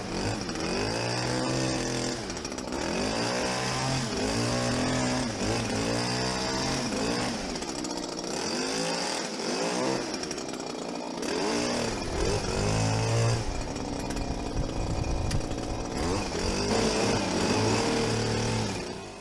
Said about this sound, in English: As going round trimming, for example, the ceanothus, it just looks horrible and straggly.